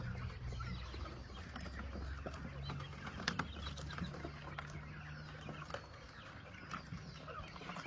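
Chicks in a poultry farm flock, a dense continuous chorus of cheeping and peeping filling the space, with scattered louder calls rising over a steady low hum throughout.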